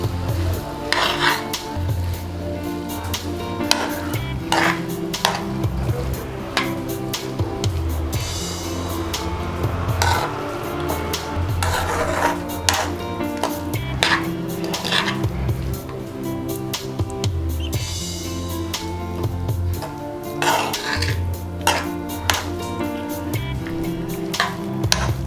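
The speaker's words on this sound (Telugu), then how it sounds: "కొంచెం స్లో చేసుకుని ఇప్పుడు మెల్లిగా కలుపుకుంటున్నాను" Tamarind rice being slowly mixed in a pan: a long run of repeated close metal scrapes and clinks of a spoon against the pan in an uneven rhythm, with a soft sizzle underneath and no talking.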